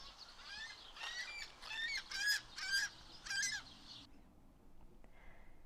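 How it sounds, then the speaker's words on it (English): A played recording of a gull calling gives a run of five or six clear, harsh, yelping calls in quick succession, then falls quiet apart from faint background hiss. "this is the sound of a seagull gull calling out to its friend"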